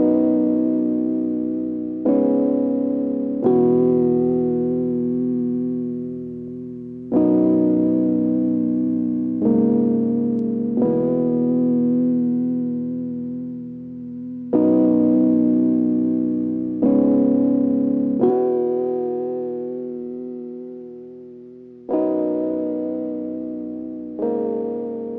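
Sustained music chords play through a lofi tape-cassette plugin, switching between cassette types every few seconds. Each block starts abruptly and then slowly fades with a warm, slightly distorted character.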